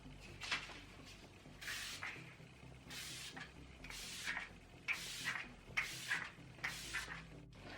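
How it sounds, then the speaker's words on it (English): A series of soft, breathy spray bursts from an Olay aloe and chamomile facial mist bottle sprayed onto a face, about eight short pumps in an uneven rhythm, quiet and close, with no talking. "I'm first going to spray my face with this Olay Ultimate Hydration Essence Calming aloe leaf and chamomile extract mist."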